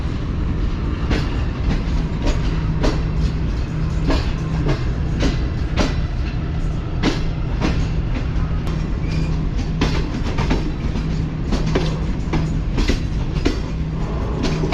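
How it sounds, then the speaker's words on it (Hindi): A ZCU 20 diesel locomotive train rolls toward the station with a loud, close, steady rumble and a regular clickety-clack of wheels over the rail joints throughout. "यस, ये ZCU 20 ही है जो कि स्टेशन की तरफ जा रहा है।"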